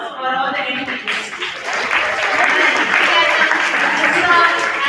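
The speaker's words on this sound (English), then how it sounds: "A big round of applause for all the educators." Audience applause for educators at a Model United Nations conference, a dense, steady wash of many hands clapping that builds after the first second and holds loud and close, with some voices mixed in.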